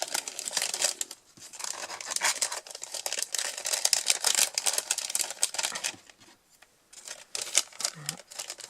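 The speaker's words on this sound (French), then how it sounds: "je vais remettre tout ça dans la petite enveloppe pour éviter de perdre quoi que ce soit" Small items slide back into a little paper envelope. Close, dry crinkling and rustling of paper runs almost continuously, with a brief lull near the end.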